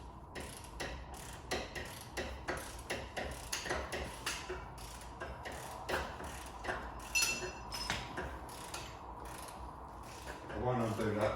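A hydraulic jack is pumped beneath a crash-damaged 2015 Mercedes-AMG GLA, giving a steady run of close metallic ratcheting clicks and clacks in an uneven rhythm, with a louder clunk near the end.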